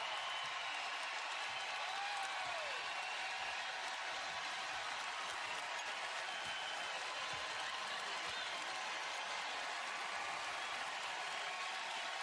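Basketball arena crowd of UCLA fans roaring and cheering, a dense, constant wash of noise with a commentator talking over it.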